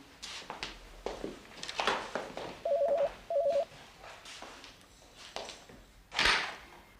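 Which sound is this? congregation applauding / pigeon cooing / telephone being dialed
telephone being dialed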